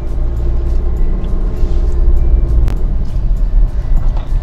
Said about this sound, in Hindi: पर जा रही है गाड़ी